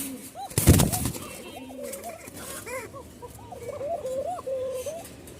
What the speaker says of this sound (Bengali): দেখছেন নর লম্বা ডাকের এক জোড়া দেখাইলাম